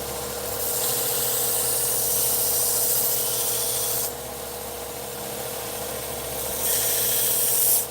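A knife blade being ground on a belt grinder, a loud continuous abrasive hiss over a steady motor hum, with the grinding swelling and easing as contact with the belt changes.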